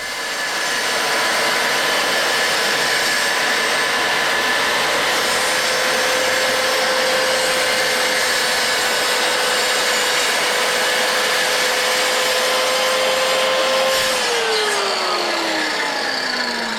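A power saw cuts a campervan folding worktop to length, one loud, steady, close whine held for about fourteen seconds before it spins down at the end, with no one speaking.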